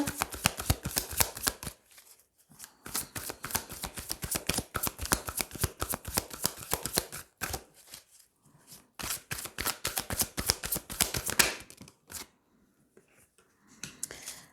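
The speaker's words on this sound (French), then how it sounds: "Allez, on va tirer 3 cartes." Tarot cards being shuffled by hand in rapid crisp riffling bursts, with several short pauses between runs, close and fairly loud with no talking.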